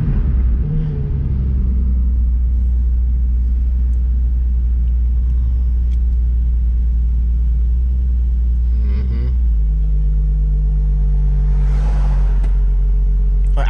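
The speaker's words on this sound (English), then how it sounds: "Yeah, I'm in the car driving it, Jet." Infiniti G35 coupe fitted with a JDM engine, heard from inside while driving: a steady, loud low engine rumble with a slightly raised idle, shifting in pitch partway through, no talking.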